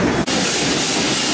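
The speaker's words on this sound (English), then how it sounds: "starting up the main condenser pump" The main condenser pump of the steamship SS John W. Brown starts up in the engine room during a dock trial, a loud, continuous rushing hiss and roar with one brief dip.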